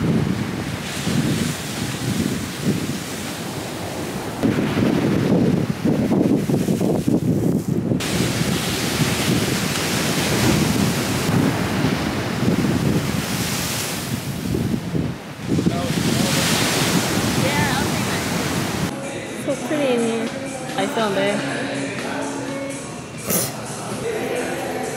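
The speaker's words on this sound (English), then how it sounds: "these waves are crazy" Ocean waves crash and surge against seaside rocks at Cabo, a loud continuous roar with gusty wind buffeting the microphone.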